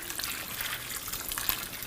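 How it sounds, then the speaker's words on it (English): A cup of water poured over sliced apples and sugar in a cooking pot gives a soft, steady trickling splash, close and fairly quiet, with no voices. "Pour in a cup of water."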